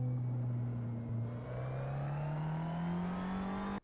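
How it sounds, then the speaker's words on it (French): A race car on the Val de Vienne circuit at Le Vigeant re-accelerates, its engine note rising steadily and loudly from close by, then cuts off abruptly as it brakes hard for a left-hand hairpin. "Brève réaccélération et gros freinage pour l'épingle à gauche."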